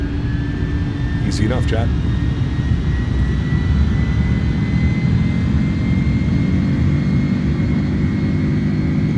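iniBuilds A310 jet engines in Microsoft Flight Simulator spool toward takeoff power on a Montreal departure, a steady loud broadband roar with a rising whine held throughout while a voice talks briefly over it.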